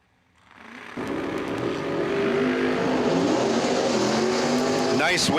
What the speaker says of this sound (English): Todd Thompson in the Olds Calais right side